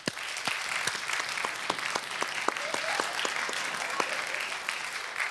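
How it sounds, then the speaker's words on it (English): Sparse, distinct handclaps from a small group of people in an award celebration, fairly quiet and spread evenly over a few seconds with no one talking. "let's give them all a virtual round of applause"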